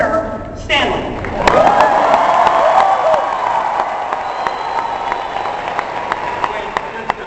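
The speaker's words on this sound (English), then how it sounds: "let's have one more big round of applause for our winner, Stanley." A theme-park show audience breaks into applause and cheering for a winner, swelling after a brief lead-in and then holding as a dense, steady roar of clapping with scattered whoops.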